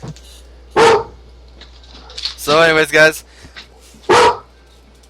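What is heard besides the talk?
dog barking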